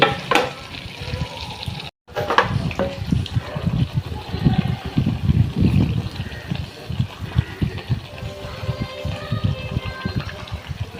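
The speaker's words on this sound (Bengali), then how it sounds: "তো আমি এটাকে আর একটু লাল করে ভেজে নিব।" Egg pitha, a rice cake made with egg, sizzles as it fries in a pan, a continuous crackling hiss with scraping and stirring noises and a short break near the start.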